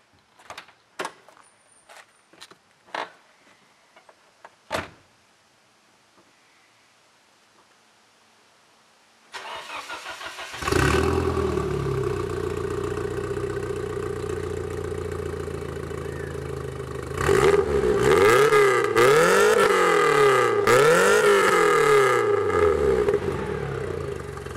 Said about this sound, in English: now I'm going to demonstrate to you guys the sound of the straight pipe exhaust.